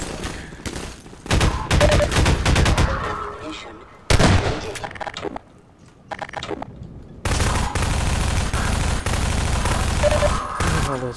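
Rapid gunfire rounds in Half-Life 2 Lost Coast, loud clustered bursts of shots broken by short quiet gaps, then a long sustained volley toward the end.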